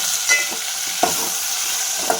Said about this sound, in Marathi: हे मी मिक्स करून घेते छान